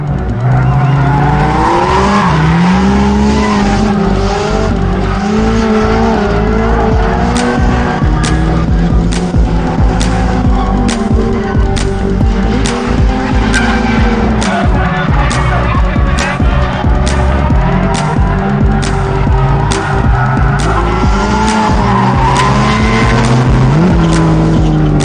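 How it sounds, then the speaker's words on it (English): Drift cars racing in a competition battle, with loud continuous engine revving, rising and falling pitch, and repeated sharp tire-squeal bursts as one car spins out, under dense crowd-like noise. "This time, the pressure put on Alex caused James to spin, and Alex literally launched himself into the next round."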